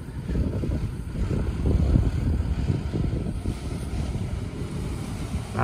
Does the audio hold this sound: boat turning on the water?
yes